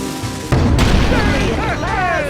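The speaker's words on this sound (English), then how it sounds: "Use the action button to fire the cannon." Old cannon fired in the Wii game Skylanders: Spyro's Adventure, a single loud boom that rumbles on as a voice starts talking over its tail.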